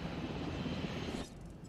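A helicopter in the video game Jurassic World Evolution gives off a steady whirring engine drone that holds for a moment and then drops abruptly to a fainter hum.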